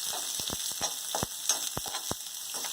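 Onion hisses and sizzles steadily in a spoonful of hot oil for sambar, with sharp crackling pops and stirring clicks scattered over the continuous fry, close and alone.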